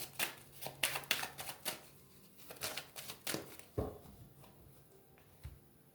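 Tarot cards being shuffled by hand before the cut, a quick run of soft riffling flicks and papery slaps in bursts, close and quiet, with no voice over them.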